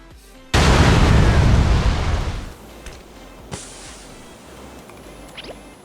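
A grenade detonates in a shooter video game, a sudden loud, heavy boom that rumbles and decays over about two seconds, followed by a quieter stretch with a single sharp pop.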